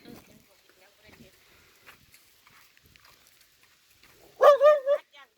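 A dog lets out a short, loud cluster of barks near the end, after a long quiet stretch with faint murmuring voices and small noises.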